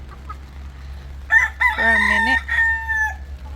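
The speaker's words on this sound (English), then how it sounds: "That's the rooster next door." A rooster next door crows once in full, a loud, drawn-out cock-a-doodle-doo, with a brief clucking lead-in and steady low hum beneath, outdoors under a tarp on a rainy day.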